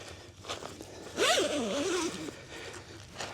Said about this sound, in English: Big, heavy-duty zippers on this thing, for sure.